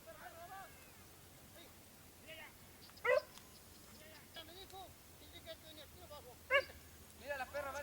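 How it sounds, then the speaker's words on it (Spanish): Hunting dogs out on a rabbit hunt give scattered short yips, whimpers and barks at moderate distance, with a sharper yelp or two standing out over quiet outdoor background and faint voices. "Mira la perrita allí, mira."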